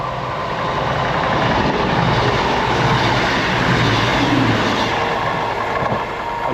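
CrossCountry passenger train running along the Dawlish coast line in Devon, a steady loud rumbling roar of wheels and engine that stays close and constant throughout, with no talk.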